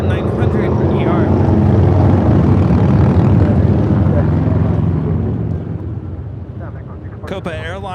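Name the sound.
Alaska Airlines Boeing 737-900ER jet taking off at LAX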